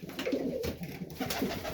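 Serbian Highflyer pigeons coo in a loft, soft repeated throaty coos overlapping one another at close range, with no talk.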